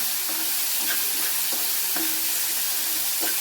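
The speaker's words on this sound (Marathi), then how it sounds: "अशा पद्धतीने मी फोडणी करून घेतलेली आहे" Tempering for dhokla sizzles steadily in a pan, a constant frying hiss with soft scraping and stirring taps at irregular intervals, close and alone.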